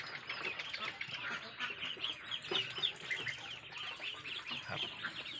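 A flock of Muscovy ducks quacking and chattering continuously, a dense, busy chorus of calls with some clucking mixed in, moderately distant.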